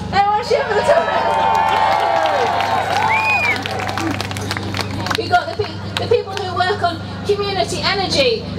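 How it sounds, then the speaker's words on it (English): Protesters at a climate justice rally cheer and whoop for photographers in a loud burst that tapers into crowd chatter and a speaking voice. "Anyone want to cheer for the photographers?"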